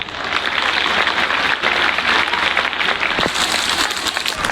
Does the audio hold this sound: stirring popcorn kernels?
no